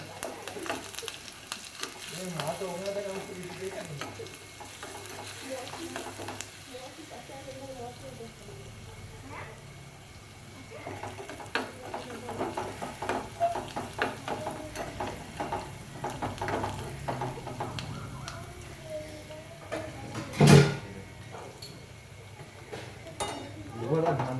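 Curry leaves, cumin and garlic fry in a pan with a soft steady sizzle while a spoon stirs and scrapes, including one sharp clink, and someone talks over it at times.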